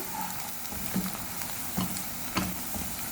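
Dried red chillies frying in oil, a steady close sizzle broken by three sharp stirring clinks.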